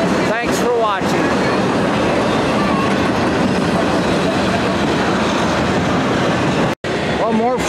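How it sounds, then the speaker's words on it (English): Union Pacific 4014 Big Boy steam locomotive departing Tucson, a loud continuous rolling roar of the heavy train with wavering whistle-like tones near the start and end and a brief dropout near the end. "showing the departure of the 4014, the world's largest steam locomotive operational for Union Pacific and Amtrak in Tucson"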